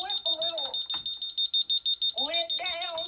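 A house alarm beeps in a rapid, steady rhythm as a high piercing tone, heard close while people talk over it.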